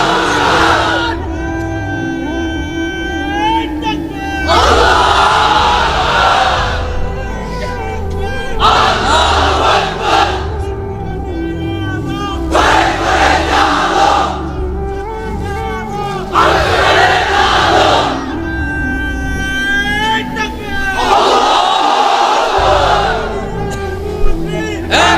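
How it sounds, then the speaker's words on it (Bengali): A large crowd of unmarried men roars a takbir chant in unison at a religious gathering, loud repeated surging shouts with a leader's voice calling between bursts. "এবার অবিবাহিতরা দাও লিল্লাহি তাকবীর।"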